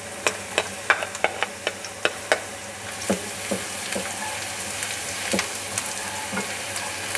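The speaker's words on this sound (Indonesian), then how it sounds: "Setelah minyaknya panas, kita masukkan bawang putih dulu." Garlic drops into hot oil in a pan, setting off a run of sharp crackles and pops at first that settle into a steady, close sizzle.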